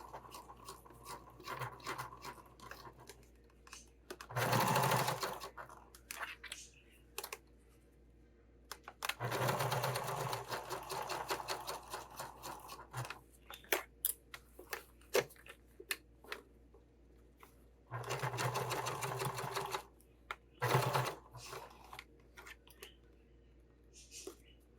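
A sewing machine stitches a Slimline Sling bag near its zipper teeth, running in several separate bursts of rapid whirring and clattering with quiet pauses between them, fairly close and moderately loud.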